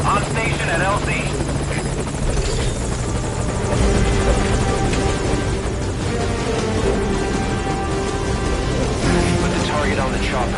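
A helicopter idles at a landing zone in the video game Metal Gear Solid V, its rotor throb and turbine drone loud and constant, with radio voices speaking over it.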